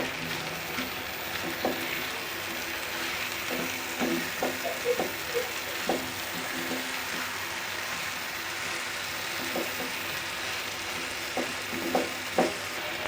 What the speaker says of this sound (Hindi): अब मैं इसमें ये पाउडर मसाले जो है ये डाल दूँगी। बिस्मिल्लाहिर्रहमानिर्रहीम। इनको अच्छी तरह से मिक्स करेंगे।